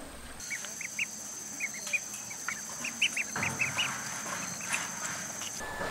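A home-raised farm duck quacks in a series of short, fairly close calls at an irregular rhythm over a steady rural background hiss.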